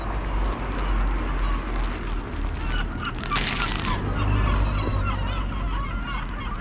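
Gulls call repeatedly in short, honking cries, some near and some farther off, over a constant low rumble of background noise.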